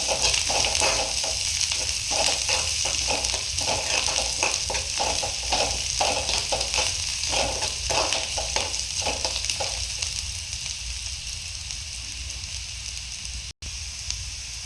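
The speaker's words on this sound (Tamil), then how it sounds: "வெங்காயம் நல்லா பொன்னிறமாக வர வரைக்கும் வணக்கணும்" Onions fry to golden in a pan for a dried anchovy thokku, giving a loud, dense sizzle. Quick rhythmic stirring strokes run for the first ten seconds, then the frying settles into a steadier hiss, with no voices.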